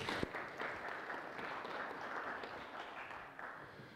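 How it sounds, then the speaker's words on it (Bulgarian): Applause greets speaker Vladimir Vitkov at a tech conference in Sofia Tech Park, a steady, fairly faint patter of many hands clapping that holds evenly throughout without voices. "Аплодисменти за Владо."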